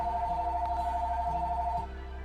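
In the video game Zoo Tycoon 2, a phone rings with a steady electronic two-tone trill for nearly two seconds, then stops, leaving a low game background hum.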